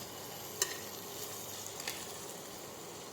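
Tomato masala for dhaba-style masala rice being stirred as it fries in a pan: a faint, steady sizzle with a couple of brief spoon scrapes against the pan, no voices.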